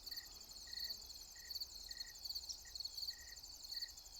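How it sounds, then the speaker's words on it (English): Crickets chirp in short, regular bursts against a steady high insect trill, faint and outdoors on a farm in Rumford, Maine, in September, with no voices. "There's crickets over here behind me, and, well, crickets all around, I guess."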